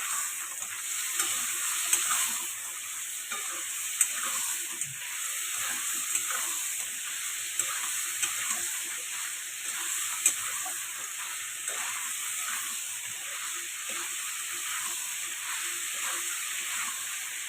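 Fried chiti crab is stir-fried in masala with a little water added, making a steady close hiss and sizzle with faint scraping clicks from the stirring.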